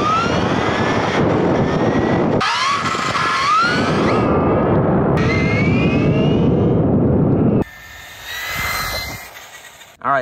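A Kyosho Toyota Tundra TDR 1/10 scale RC truck runs on stock power, its motor whining loud and close with rising and falling pitch sweeps as it speeds and turns, then a quieter stretch near the end.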